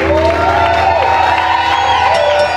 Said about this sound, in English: Clap and shout to the Master